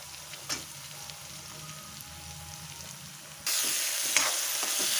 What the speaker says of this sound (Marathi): आता हे तेलात घालून चांगलं परतून घ्यायचं व्यवस्थित।